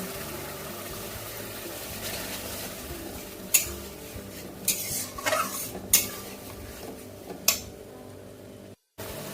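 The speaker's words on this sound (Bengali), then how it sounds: "মশলাটা খুব ভালো করে কষে নেব মশলাটা ভালো করে কষার জন্য সামান্য একটু আমি জল দিচ্ছি" Spice paste for a Bengali pabda fish curry stirred in a pan with a splash of water, with a low steady sizzle under scraping spoon strokes and a few sharp clinks of utensil on metal.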